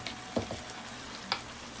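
Sofrito goes into a hot frying pan for picadillo, giving a steady close sizzle broken by a couple of soft clicks from stirring, with no talking.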